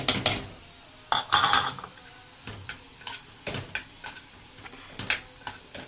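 A utensil stirs onion into a pan of minced meat, producing repeated clanks and scrapes against the metal in an irregular rhythm, close and fairly loud, with no talking.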